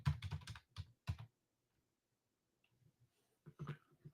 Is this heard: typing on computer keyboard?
yes